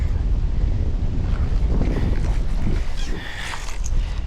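Steady wind rushes and buffets the microphone on a fishing boat out over grassy bass water, a constant low roar with no pauses.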